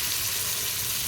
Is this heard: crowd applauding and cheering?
no